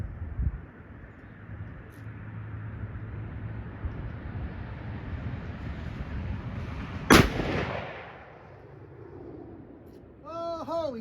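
A single loud, sharp 7mm Remington Magnum rifle shot fired outdoors during a trigger test, cracking out suddenly over steady wind and ambient rumble, then decaying, with a brief voice following near the end.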